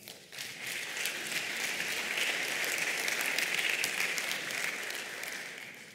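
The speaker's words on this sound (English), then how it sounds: "How about a round of applause for that?" Sustained applause from a conference audience at a talk on environmental hacking, a dense wash of many hands clapping that swells in quickly, holds steady for several seconds, then tapers slightly, with no voices over it.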